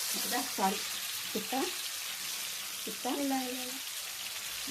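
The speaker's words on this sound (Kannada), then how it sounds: "ಚೆನ್ನಾಗಿ ಫ್ರೈ ಆಗಬೇಕು." Fish frying in oil on a tawa, a steady soft sizzle running throughout beneath a voice talking intermittently.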